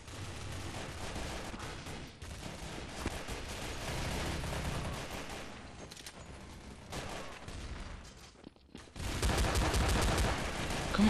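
Rapid bursts of video game gunfire crackle through the whole stretch, dipping briefly before a louder, denser volley near the end.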